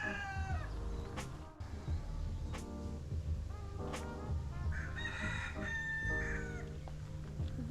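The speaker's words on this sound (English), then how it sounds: "There's a lot of roosters. They're talking shit to each other." Roosters in Tahiti crow repeatedly, one after another, against a steady rumbling background, some calls near and loud, others fainter.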